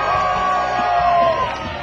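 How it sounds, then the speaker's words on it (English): Fans cheer for a competitor at an outdoor fishing-show cook-off featuring Sunset Country whitefish, a dense, steady crowd roar with shouts throughout. "Bob's loyal fans are there to cheer him on"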